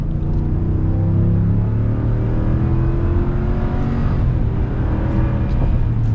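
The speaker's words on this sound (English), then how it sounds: "the real-time fuel economy as we are accelerating onto the highway" A Ram 1500 Limited pickup with the 5.7 Hemi V8 and e-torque system accelerates onto a highway at night, heard from inside as a loud, steady engine drone and road rumble that holds constant without talk.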